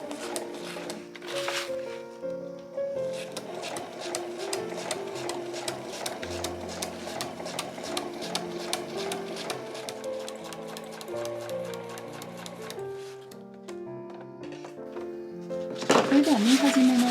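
A sewing machine stitches a one-piece fabric tote bag with a steady rhythmic ticking run of the needle, close and moderately loud, under someone talking.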